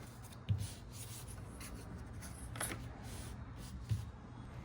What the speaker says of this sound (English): placed it on the painter's tape and traced both the outside and the inside.